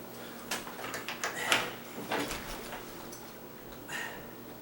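A sagging wooden double door is shifted and lined up, giving a series of faint scrapes, knocks and clicks at close range, irregular and quiet, with no talking.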